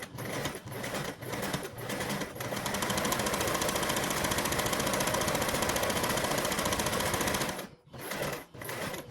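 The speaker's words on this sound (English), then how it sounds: "once I top stitch down, it shouldn't be twisted anymore" A sewing machine top stitches a charm handle in one steady run of rapid mechanical stitching lasting several seconds, with a few short bursts before and after it and brief pauses between.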